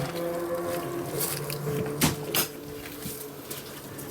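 Two sharp clunks of an ambulance converted into an RV as its rear doors unlatch and swing open, close by, over a steady low background hum.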